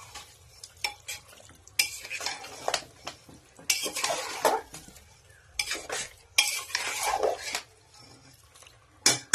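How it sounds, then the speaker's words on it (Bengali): Spiced chicken for a spicy kosha curry gets stirred in a pot, with repeated bursts of a metal spoon scraping and clanking against the pot and a faint sizzle between strokes, close up and without voices. "ভালো করে নেড়ে চেড়ে নিতে হবে যাতে মশলাটা মাংসের সঙ্গে মিশে যায়"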